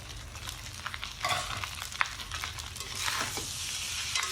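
Eggs and green onions are stirred into rice frying in a pan, with a soft, steady sizzle and intermittent scraping of the utensil, close and fairly quiet.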